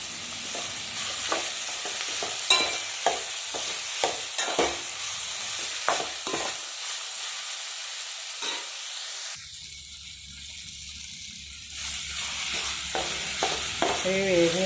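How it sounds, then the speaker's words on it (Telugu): Onions sizzle steadily in a pan for a poori potato curry, with repeated scraping stirs of a spoon and a brief quieter pause before the frying hiss returns. "ఉల్లిపాయలు కూడా బాగా ఫ్రై అవ్వాలి"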